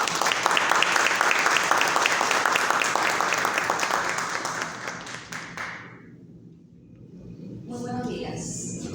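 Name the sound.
audience applause for a speaker at a municipal congress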